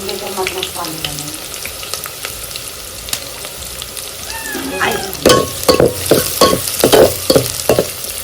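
Finely chopped onion and garlic fry in oil with curry leaves, giving a steady close sizzle, and then a run of loud rhythmic stirring scrapes takes over in the second half.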